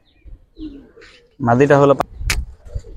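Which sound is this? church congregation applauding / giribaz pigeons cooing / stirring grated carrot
giribaz pigeons cooing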